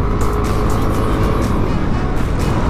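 A motorcycle rides through traffic on a road trip in Bulacan, its engine a loud continuous drone close by with passing road noise throughout.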